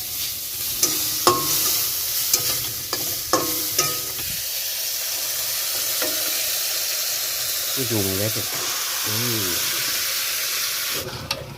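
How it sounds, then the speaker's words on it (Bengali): Onions frying in a little oil hiss and sizzle steadily while a spoon scrapes and knocks against the pan, with a few short rising tones near the end. "অল্প তেলে পেঁয়াজ ভাজবো"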